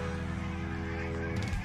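A flock of geese honks and cackles continuously in the background near a newly built backyard deck, a steady mid-loudness din with a brief louder squawk near the end.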